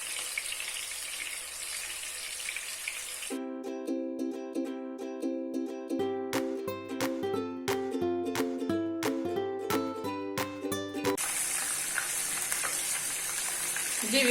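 Egg chapli kababs fry in a pan with a close, steady hissing sizzle at the start and end, interrupted by a long stretch of music in the middle.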